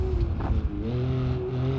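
Turbocharged three-cylinder car engine in BeamNG.drive rising through revs after a rough, gravelly start, holding a steady mid-pitched drone that climbs and settles, moderately loud with no voices.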